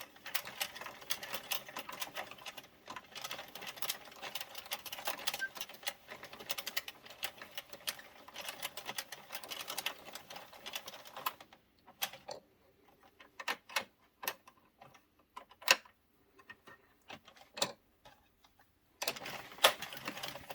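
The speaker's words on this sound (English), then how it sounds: "Knit 3 rounds." A Sentro knitting machine cranked through rounds of yarn, giving a steady rapid clicking and clattering that runs continuously, then breaks into shorter bursts with pauses before resuming.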